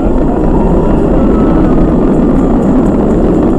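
SpaceX Falcon 9 rocket engines roar during a crewed launch ascent past Mach 1, a loud, continuous, dense low rumble with no breaks.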